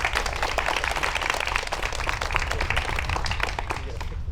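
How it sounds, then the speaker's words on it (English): An audience at a swearing-in ceremony applauds, a dense, steady patter of many hands clapping together at even loudness throughout. "Can I get a round of applause for the staff?"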